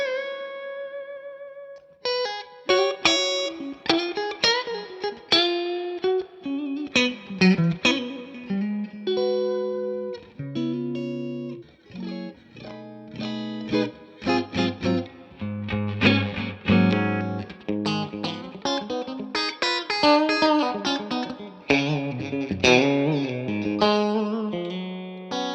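An electric guitar plays through a Two-Rock Bloomfield Drive amp with plenty of reverb, a run of picked notes and chords with some overdrive that ring on and fade into echoing tails, close and clear, with no talking.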